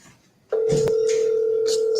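A steady tone of an outgoing phone call sounding in the earpiece, a single unbroken ring tone running loud and even after a short quiet start, with brief clicks over it.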